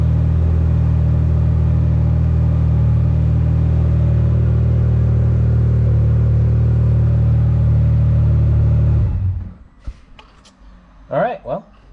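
A Can-Am Maverick R side-by-side, newly fitted with a rising-rate fuel pump and running on E85, idles with a loud, steady low rumble for about nine seconds, then shuts off abruptly, leaving quiet with a few faint clicks and brief voices.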